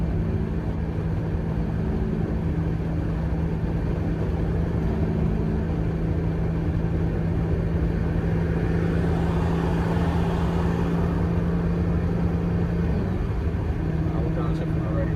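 A Mercedes CLS55 AMG with a supercharged engine accelerates on the road, a steady loud cabin drone with a rising whine building through the middle, while someone talks over it.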